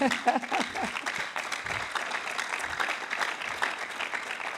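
An audience at a church gathering breaks into sustained applause, many hands clapping at moderate volume, with a voice briefly audible at the start.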